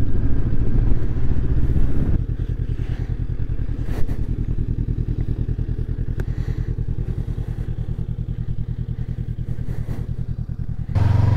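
Honda NX500 twin-cylinder motorcycle on the road, a loud, close engine throb with a fast, steady pulsing rhythm and a shift in tone early on, heard alone with wind rush.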